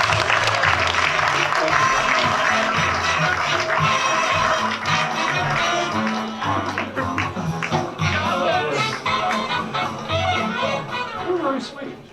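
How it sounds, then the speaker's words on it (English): Applause from an audience at a Chamber of Commerce business appreciation night, steady and loud at first, then thinning out and turning patchier, with crowd murmur and voices mixed in throughout. "Let's give them both a big round of applause."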